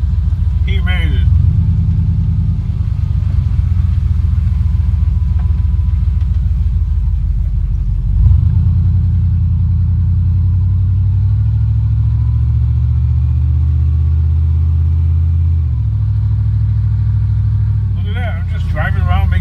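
A car driving around town on a scrap-hunting run, its low engine rumble steady and close throughout with shifts as it slows and speeds up, and brief voices near the start and end.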